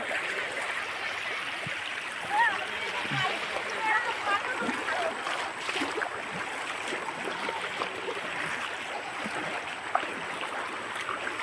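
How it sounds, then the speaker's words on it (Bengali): Steady rushing floodwater pouring over a submerged village road after heavy rain, a continuous moderate wash with small splashes throughout, while voices talk faintly in the background. "রাস্তা ডুবে জল যাচ্ছে"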